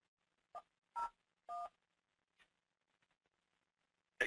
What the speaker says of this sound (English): So now if I dial extension 101,